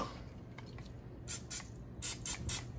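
Faint short hisses of cooking oil spray misting over broccoli, a few quick bursts in a row, quiet against room background.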